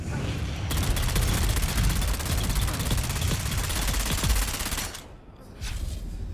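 Rapid automatic gunfire from a weapon in the video game Dune Awakening, a loud sustained stream of shots lasting several seconds before cutting off, followed by a brief quieter pause and lower rumble.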